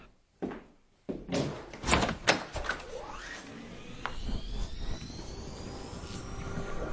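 A door is opened by its handle with a few sharp clunks and rattles, followed by a rising airy whoosh like a gust or engine sweeping through, at moderate loudness.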